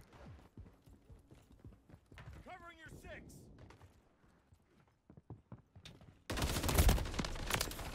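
Gunfire in Call of Duty Modern Warfare 3: quiet clicks and a short voice fragment, then a sudden loud, sustained burst of rapid fire filling the last two seconds.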